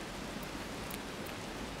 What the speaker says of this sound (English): I'm sure you can hear that it's raining.